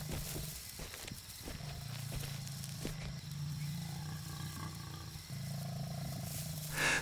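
A lion roars low and rumbling amid a clash with hyenas on the savanna. The roars are moderately loud and come in drawn-out swells over a dusty wildlife scene with other animal noises around them.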